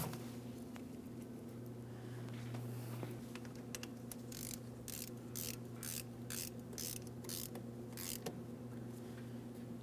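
A ratchet clicks in a quick run of short strokes while a brake hose is snugged into place on a 2003–2008 Toyota Matrix, the bursts close and fairly clear over a low steady hum.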